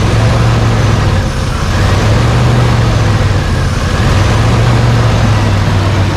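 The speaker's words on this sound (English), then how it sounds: "So it has a major idle surge problem, and you can tell right there. It'll level out and surge." A 1992 GMC Sonoma GT with a 4.3 engine idles with a steady, loud rumble, the low drone dipping and rising again in slow waves as the idle surges, with no voices over it.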